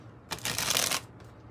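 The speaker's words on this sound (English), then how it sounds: "let's give it one more good shuffle here" A deck of tarot cards is riffled once in a quick, crisp burst lasting under a second, close up, followed by quiet.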